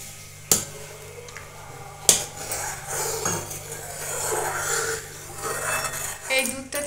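A metal spoon scrapes and clinks against a kadai while boiled milk is scooped out, with two sharp knocks early on and soft scraping and sloshing after, near and fairly loud.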